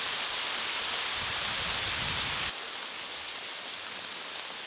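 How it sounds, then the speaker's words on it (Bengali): Heavy rain pours down in a steady, dense hiss that softens a little partway through, with no voices. "ওই দিক থেকে একদম সাদা হয়ে বৃষ্টি আসছে, মুষলধারে বৃষ্টি"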